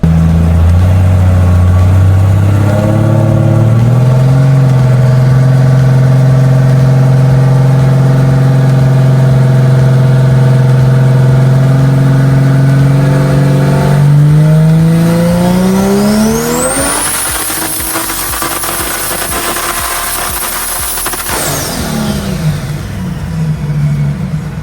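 Tuned no-prep car making a dyno run near 1,000 horsepower, engine climbing steadily from a low drone into a loud high-rpm scream, then dropping back off, close and alone.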